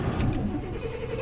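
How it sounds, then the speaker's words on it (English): A truck's engine cranks and catches, leaving a close, loud, low rumbling idle that runs steadily to the end, with no talking. "so now we're just going to start the car."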